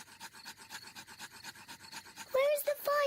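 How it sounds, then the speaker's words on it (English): A cartoon pig rubs two sticks together to light a campfire, a steady rhythmic back-and-forth rasping at close range, then a voice speaks over it near the end. "Daddy Pig is rubbing the two sticks together to light the campfire."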